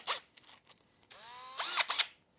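A power drill whirs in a short burst while drilling out an engine oil drain plug hole, its motor pitch rising and falling briefly, after a few clicks and handling sounds.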